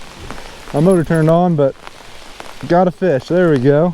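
Steady rain patters on water and surroundings during a fishing trip, a soft constant hiss running beneath two bursts of nearby talking.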